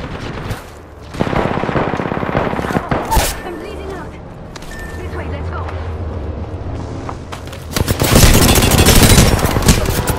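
Rapid automatic gunfire in Apex Legends battle-royale gameplay, loud bursts recurring through the clip and swelling into a heavy volley near the end, with voices in between.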